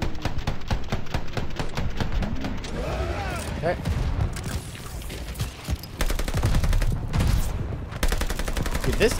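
SDG rifle fire in the Call of Duty Vanguard campaign, with rapid bursts of shots and mechanical clatter, loud and close, over game ambience and intermittent talk.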